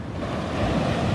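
Ocean waves wash up on the beach at Long Bay, a broad, continuous roar of surf with wind buffeting the microphone, swelling slightly toward the end.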